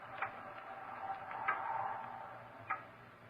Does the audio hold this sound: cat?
no